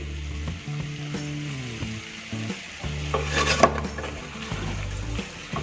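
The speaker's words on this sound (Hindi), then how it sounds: "ये मसाले को अच्छे से भून लिया है और ये मसाले का कच्चापन स्मेल भी चला गया है" Spiced masala with kasuri methi fries in a pan, giving a close sizzle and scraping, clicking stirs that come in bursts beneath steady background music.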